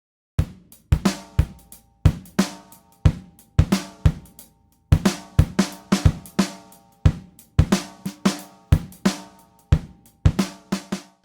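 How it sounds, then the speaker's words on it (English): An acoustic drum kit plays uncompressed, with punchy kick and snare hits in a steady groove, sharp transients and quick decays between beats, loud and close with no talking. "Okay, so a nice acoustic drum kit."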